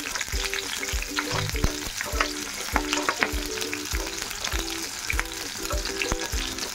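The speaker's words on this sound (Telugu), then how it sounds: "పచ్చిమిర్చి వేగడానికి సరిపడినంత ఆయిల్ వేసుకోవాలి. అటు ఇటు కదుపుతూ మొత్తం ఫ్రై అయ్యేటట్టు చూసుకోవాలి." Green chillies stir-frying in hot oil for a street-style rava dosa chutney, a steady close sizzle broken by regular scraping strokes of a spatula stirring the pan, with no talk.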